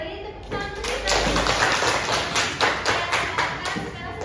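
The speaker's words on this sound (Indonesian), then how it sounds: "Beri tepuk tangan untuk kita." A school class claps together, a quick, rhythmic run of crisp hand claps from a small group close by, fairly loud, with a low thump near the start.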